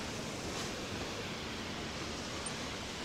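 Steady, dense wash of ocean surf on a beach at Koh Samet, Thailand, a continuous hissing roar of breaking waves with no voices.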